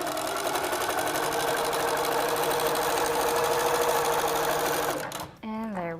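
A Little Rebel sewing machine stitches half square triangles in a steady, fast mechanical whir that runs for about five seconds, then stops, with a brief voice heard afterward.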